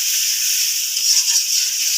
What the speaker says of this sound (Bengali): মশলাটা ভালো করে কষাতে হবে।